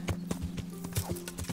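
Horse hooves clip-clop in a steady rhythm of distinct close thuds while riding in the medieval game Kingdom Come: Deliverance, with an occasional whinny and a low steady hum underneath.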